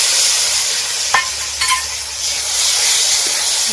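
A spoon stirs spice paste mixed with water in a pot for a thin country-chicken curry, giving a steady wet sizzling hiss with a couple of soft clinks against the metal.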